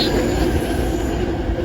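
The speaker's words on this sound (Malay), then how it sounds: "Macam I naik MRT." Steady rumble of a Malaysian MRT train ride in Kuala Lumpur, with continuous low wheel and carriage noise and a faint high whine throughout, heard from inside the car.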